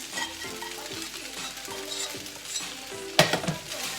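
Boiled, cooled peas and carrots are tossed into fried rice in a hot pan, with a steady close sizzle, several rhythmic stirring scrapes and a sharp clatter near the end.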